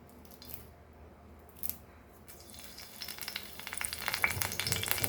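Curry leaves dropped into hot mustard oil for a Goan green brinjal masala crackle and sizzle close up, the spitting building from a soft hiss into a busy, loud fry.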